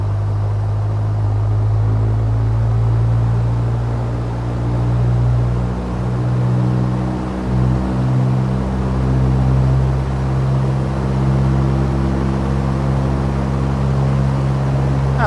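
Piston engine of a PA-28 Warrior II light aircraft in a flight simulator, running up to 2000 RPM: a steady, loud droning rumble with strong low harmonic bands, holding constant with slight wavering throughout.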